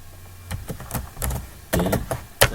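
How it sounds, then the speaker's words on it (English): Keystrokes on a computer keyboard while typing text into a file in the vi editor on a UNIX system: a handful of separate taps and clacks, some in quick clusters, fairly close and fairly quiet, with no talking. "I can put inside the students some text. I can type anything, no problem."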